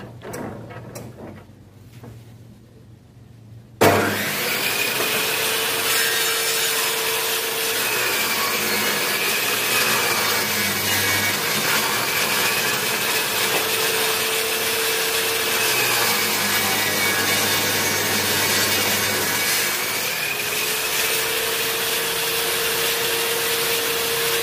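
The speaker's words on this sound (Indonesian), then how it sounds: "sekarang saya akan mencontohkan hasil potongan dari table saw Ryu ini" A Ryu RTS10 10-inch table saw spins up abruptly and cuts through wood in a loud, sustained whine with a steady droning motor, the pitch dipping slightly as the blade bites into the workpiece, continuing without pause.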